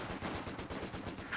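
Vickers machine gun fire in a competitive World War strategy match, a rapid steady stream of sharp rattling shots, loud and continuous for the whole burst.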